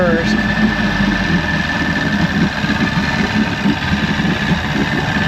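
A 1996 Force 120hp outboard motor running with a little throttle, a steady close mechanical engine drone that holds constant throughout, with no breaks or talk.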